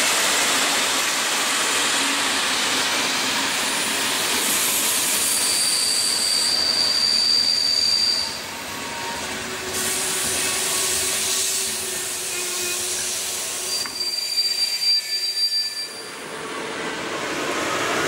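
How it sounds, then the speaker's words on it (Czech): Train pulling into a small station stop at Plzeň Lubravka in the Czech Republic, a loud continuous rolling rumble and rushing roar with brief high squeals of brakes, easing and quieting toward the end. "vlak mimořádně zastavuje na zastávce Plzeň Lubravka"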